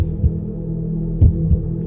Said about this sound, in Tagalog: Napabilis ang tibok ng puso ko.